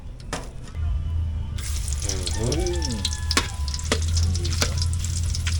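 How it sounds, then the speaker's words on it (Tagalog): Hissing, crackling sizzle of chicken feet frying in oil, steady and close, with a few sharp pops and clanks of utensils. "gigisa na lang natin muna yung ano, paa ng manok ay mantika"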